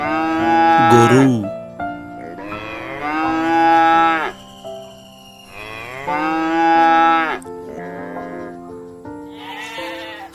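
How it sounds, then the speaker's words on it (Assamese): A domestic cow moos in several long, loud, close calls with short pauses between them, some sounding strained and almost bleating. "গৰু"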